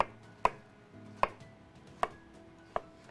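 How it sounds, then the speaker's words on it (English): Knife roughly chopping vegetables for veggie stock on a cutting board, four sharp, evenly spaced thuds about three-quarters of a second apart, close and clear with no talk. "So we want to kind of just roughly cut this up"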